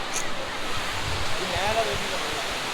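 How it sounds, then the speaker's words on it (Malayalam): A steady, fairly faint rush of a rain-fed waterfall behind a park in hilly Kodaikanal, an even wash of falling water with no breaks over a few seconds. "ഇതാണ് ആ ഒരു പാർക്കിൽ ബാക്കിൽ കാണുന്ന ആ ഒരു വള്ളച്ചാട്ടം"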